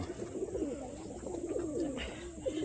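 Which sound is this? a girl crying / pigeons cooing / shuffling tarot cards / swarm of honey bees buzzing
pigeons cooing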